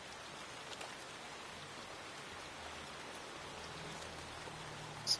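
Rain falls steadily in Lushfoil Photography Sim at East Maddon Park, Northern England, a soft, even patter on surfaces with a faint low rumble beneath and a small bump at the very end.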